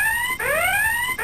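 A loud electronic burglar alarm at a car dealership, a piercing siren tone sweeping upward in repeated cycles, close and alone, cutting off abruptly at the end.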